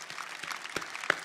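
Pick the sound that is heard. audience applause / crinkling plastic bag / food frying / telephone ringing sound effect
audience applause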